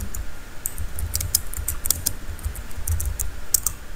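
Rapid typing on a computer keyboard while entering text into a C# program, with quick, close clicks in uneven bursts for the whole stretch, no voice.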